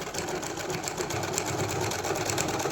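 A sewing machine runs continuously, stitching fabric while an old garment is reworked into children's clothing, giving a steady, close, even whirring hum throughout.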